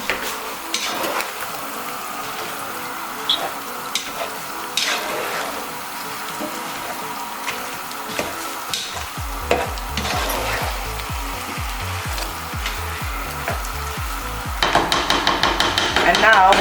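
Thai chicken sizzles and crackles in a pan over a big fire while being stirred, with sharp repeated scraping and clanking of the utensil growing louder and faster near the end.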